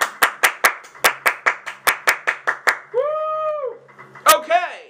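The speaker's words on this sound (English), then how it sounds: "Give yourself a round of applause." About a dozen sharp hand claps in a quick, slightly uneven rhythm, followed by a short sung or whooping voice and a few more bright notes.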